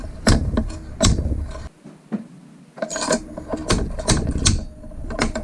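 Steel fork seal driver tapping a bushing down into a Yamaha FZ-09 motorcycle fork tube, a series of sharp metallic knocks in uneven bursts with a short pause partway, up close and loud.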